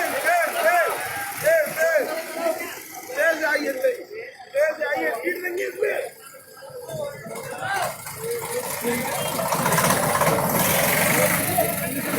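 Tractor loaded with sugarcane idling at a farmers' protest at Ghazipur near Delhi, a low engine chug running beneath people talking, then growing into a steadier, louder rumble near the end.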